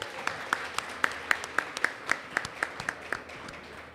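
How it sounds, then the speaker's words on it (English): Applause on a podcast, a small number of hands clapping in a fairly regular rhythm of sharp, distinct claps, close and moderately loud, with no talking over it. "So a round of applause for Kombox, man."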